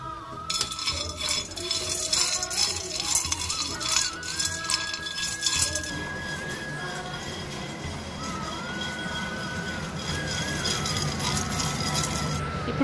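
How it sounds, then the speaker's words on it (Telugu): Peanuts dry-roasting in a pan on a gas stove, stirred with steady scraping, rattling and clinking of the utensil against the metal, loud and close throughout, with a brief voice in the middle. "పల్లీలు వేయించుకుందాం"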